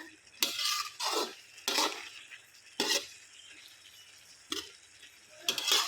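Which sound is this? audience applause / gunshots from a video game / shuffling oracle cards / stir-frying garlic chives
stir-frying garlic chives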